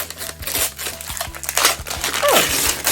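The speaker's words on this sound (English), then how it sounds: "So let's just go ahead and unwrap it" Paper and plastic wrapping on a gift-wrapped book package crinkles and tears in a run of close, busy rustles, with a few faint background thumps.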